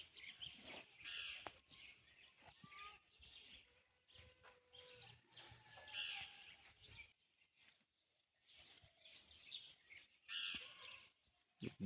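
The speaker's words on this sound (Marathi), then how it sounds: "पक्ष्यांचे किलबिलाट या ठिकाणी झाडावर सुरू आहे." Birds chirp and call from trees around a village school in Dongargaon, a hill-ringed village, with crow-like caws mixed in; the calls come in bursts of varying loudness, near and far, pausing briefly partway through.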